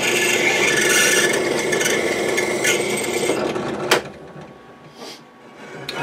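A drill runs with a steady grinding, rasping whir as the bit cuts through a motor mount, loud and close for about four seconds, then stops with a sharp clack and quieter handling sounds.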